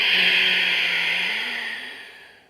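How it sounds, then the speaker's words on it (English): Steady airy breath drawn in through the nose during yoga, a soft continuous hiss with a slight throaty tone that holds for about two seconds and then fades out, close and alone. "Can you hear that? I'm breathing through my nose."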